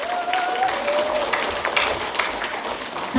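An outdoor audience at a gakseori folk performance in Ulsan claps in a continuous, fairly even patter, with a faint voice or tone threading through the crowd noise.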